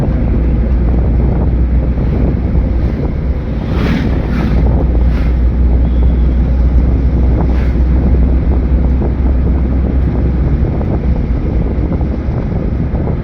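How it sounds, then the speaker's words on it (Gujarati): Sea waves wash in at the shore in hot, sunny weather while strong wind buffets the microphone, making a loud, steady roar throughout with no talking. "દરિયા"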